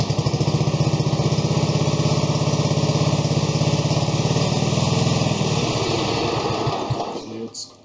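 Small tractor engine that won't idle, running steadily at full throttle with a loud, even buzzing drone close by, throttle roaring on choke before it tapers off near the end.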